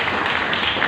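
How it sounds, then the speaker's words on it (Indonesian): A church congregation applauds in a dense, steady wash of clapping that fills the short moment without a break. "Kasih tepuk tangan yang meriah untuk Tuhan Yesus."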